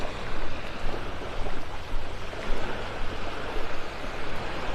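Steady broadband wash of surf at Vanderbilt Beach in North Naples, Florida, a continuous rushing roar with gentle swells and no talking.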